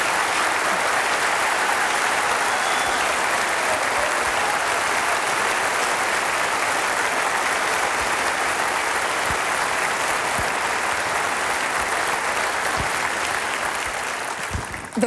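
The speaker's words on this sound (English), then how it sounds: "You may applaud." A presidential debate audience at an October 2003 Democratic candidates' event in Phoenix, Arizona applauds the introduced candidates, loud, sustained, dense clapping from a large crowd lasting the full stretch before tapering slightly at the end.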